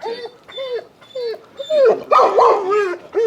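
A dog that was once abused barks and yips in short bursts, close and moderately loud, with whimpering tones between the barks as it grows more agitated toward the end.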